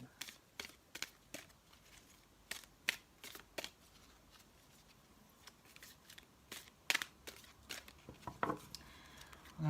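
A tarot card deck being shuffled and handled, close and quiet, with a series of crisp riffling bursts and soft card flicks spaced irregularly across the clip, no voices heard.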